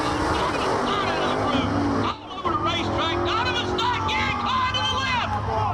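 Gasser drag race cars roar down the strip at a Southeast Gassers event in Piedmont, engines loud and continuous with shifting pitch, while an excited announcer talks over them.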